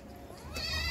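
Young goat kids bleat in a field where goats are being taken to graze, one short rising call near the end over a low steady background rumble.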